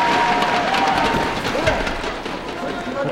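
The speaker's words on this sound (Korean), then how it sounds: "이규철 선수의 힘찬 응원의 박수 부탁드립니다" A crowd at a wrestling match applauds and cheers in a steady, wash-like roar that continues under a commentator's voice throughout.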